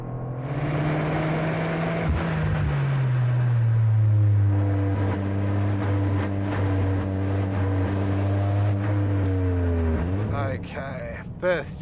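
A Toyota GR Corolla in sport mode on a track, stability control off, roars loudly and steadily with the engine note climbing through the revs, then drops off near the end, with talk over it.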